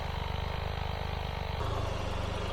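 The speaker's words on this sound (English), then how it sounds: "So let me turn off my engine here." A car engine idles at a roadside stop after a flat tire repair, a steady low rhythmic throb heard close and alone, with a slight shift in tone partway through.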